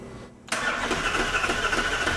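A Ferrari 458 engine fires up after a DIY intake manifold install, with a quiet lull, then a sudden catch into a loud, steady idle, close by.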